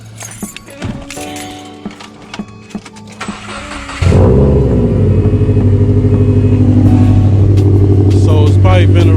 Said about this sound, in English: let me start my car real quick